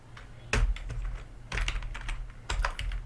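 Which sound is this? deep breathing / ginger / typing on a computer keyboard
typing on a computer keyboard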